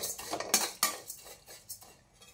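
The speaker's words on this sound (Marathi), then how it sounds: "पोहे सुद्धा आपण भाजून घेऊ।" Flattened rice (poha) dry-roasted in a pan for chakli, heard as a run of light scraping and clinking strokes of a utensil against the pan, with a couple of sharper metallic knocks, close and fairly quiet, no talk.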